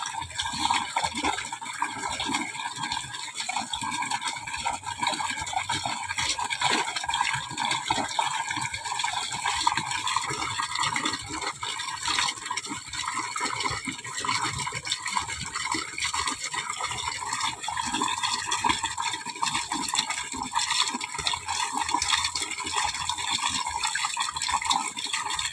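Fish being washed under running water: a steady, continuous gush and splash of flowing water runs throughout, with faint rattling and no talk.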